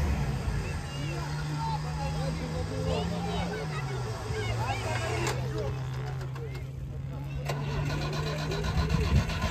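An off-road race car's engine starts at a trophy-sprint race and settles into a rising and falling idle with a steady hum, while people talk nearby throughout.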